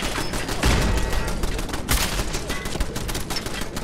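An automated turret in Fallout 4 fires a loud, sustained stream of rapid shots, dense and close, with a few heavier blasts punching through the chatter of the gun.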